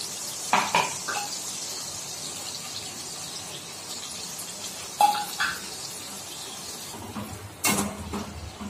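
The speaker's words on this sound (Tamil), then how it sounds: "நல்லா கிளறி விட்டுட்டுங்க." Ginger garlic paste and meat masala are stirred in a pan, a quiet background sizzle punctuated by a few sharp metallic clinks and scrapes of the spoon against the pan, spaced a few seconds apart.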